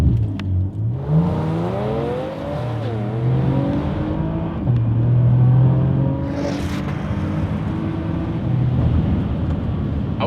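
A RaceChip-tuned Porsche Macan Turbo accelerates hard, its engine note rising steadily in pitch through the gears with a brief shift dip, heard from inside the cabin, loud and continuous with no talking.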